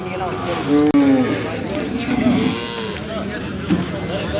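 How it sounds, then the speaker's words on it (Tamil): Native cattle arriving at a weekly country cattle market in Palayakottai give short lowing calls amid a busy crowd, with people talking nearby throughout. "பாருங்கன்னா வந்துட்டுருக்கு மாடுகள்."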